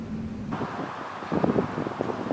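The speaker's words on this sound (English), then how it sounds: "That wind is definitely picking up." Wind gusting outdoors on a warm day at a Louisiana house, a steady broad rushing that swells louder midway with buffeting bursts against the microphone.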